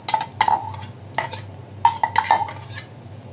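A utensil scrapes and clinks against a pan while oats and egg omelette batter is spread around it, giving sharp metallic taps in irregular clusters over a faint background hiss, close and without speech.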